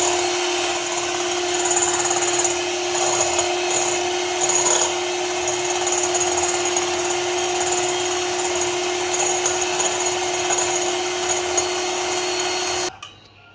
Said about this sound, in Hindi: एक पैकेट इसमें क्रीम का डालेंगे। इसको हम बीट करेंगे।